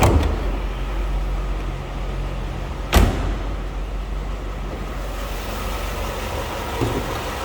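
A 1995 Chevrolet Corvette C4 convertible with a stock 350 V8 idles in a low, steady rumble heard from behind the car, mixed with wind-like outdoor noise and a sharp door-like thump partway through.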